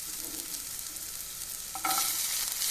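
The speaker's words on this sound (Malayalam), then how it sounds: "ഇനി നമുക്കിതിലേക്ക് സവാള ആഡ് ചെയ്ത് കൊടുക്കാം." Chopped onion sizzling in hot oil for tomato chutney, with a steady frying hiss and stirring, the sizzle growing louder and brighter toward the end.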